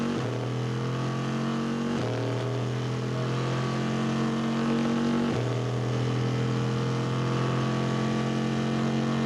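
A Corvette C6R race car engine at the Le Mans 24-hour race, a loud steady droning roar with gear-change pitch drops, heard continuously with no talk.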